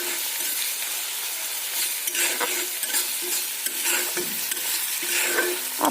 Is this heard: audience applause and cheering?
no